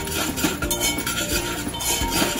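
A spoon clinks and scrapes against a pan while stirring red chili masala in oil, giving quick metallic taps and rattles in an irregular rhythm, close and fairly clear.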